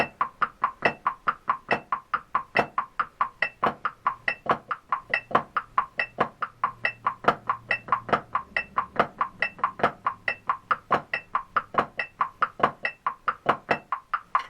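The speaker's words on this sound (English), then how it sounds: "Here's how the A section, the 16th note grid would sound with those flams." A fast, steady drum pattern of evenly spaced sharp hits, a continuous sixteenth-note grid with flams and periodic accents, played alone at a moderate level.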